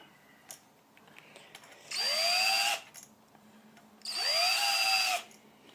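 A power drill spins a Lee case trimmer on brass cartridge cases in two separate bursts of whirring, each about a second long, with quiet pauses of small handling noises between.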